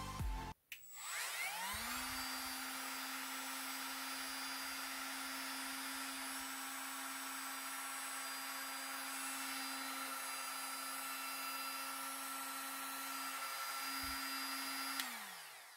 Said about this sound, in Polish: jak ta szlifierka pracuje